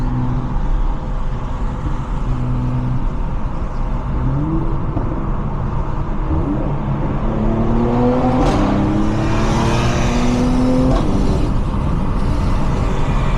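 Tuned Stage 1 Mercedes C43 coupe with a turbo engine, about 430 hp, downshifting on a test drive: continuous loud engine drone with rising and falling rev sweeps, blips between gears and a sharp burst near the end, no talk.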